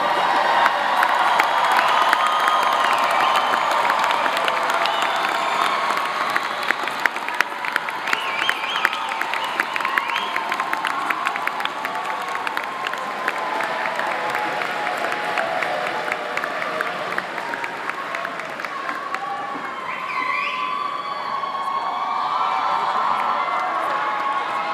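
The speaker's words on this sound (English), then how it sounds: "One more time, a round of applause for the Olin Business School class of 2026." Graduation ceremony crowd for the Olin Business School class of 2026 applauding and cheering, a sustained roar of clapping mixed with shouts and whoops that stays loud for about twenty-five seconds before easing slightly.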